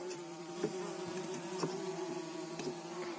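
Honeybees buzz at a hive, a steady close hum of several insects with a few brief louder passes as individual bees fly near.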